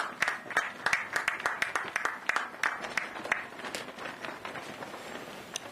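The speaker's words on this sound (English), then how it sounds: "Let's give a round of applause to young ladies for our awesome performance." A small audience at an outdoor ground-breaking ceremony for a renewable energy project gives light applause after a performance. The sparse, distinct claps come in uneven bursts and do not build into a dense wall.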